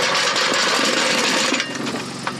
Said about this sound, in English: You can hear it blowing, and it's because I can't get the old centre pipe to house correctly into the new exhaust